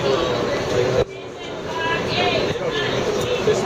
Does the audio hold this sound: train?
yes